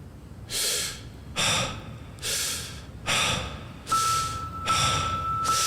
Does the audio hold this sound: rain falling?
no